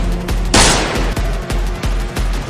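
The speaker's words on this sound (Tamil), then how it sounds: "ராணா ராஜனை சரமாரியாக சுட்டான்." A loud, close burst of rapid gunfire as a man is shot repeatedly, sharp evenly spaced cracks over a dense roar, in a dramatized crime scene.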